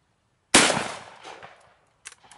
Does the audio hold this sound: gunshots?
yes